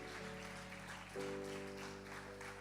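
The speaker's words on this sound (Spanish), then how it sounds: "Dale un aplauso al Señor" Applause from a congregation at a Sunday church meeting, a soft steady wash of clapping heard alongside sustained organ-like tones and a low hum, fairly faint and distant throughout.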